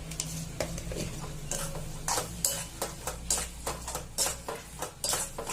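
Spices being stirred into Khandeshi bharit, a mashed eggplant dish, in a pan: a close, steady series of scraping and clinking spoon strokes against metal, roughly two per second, over a soft sizzle.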